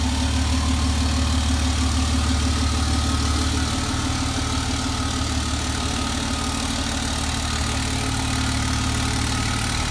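A lifted pickup truck's engine idles steadily throughout while the truck maneuvers slowly, a loud, continuous low rumble with no talking.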